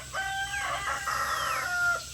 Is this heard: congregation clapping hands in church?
no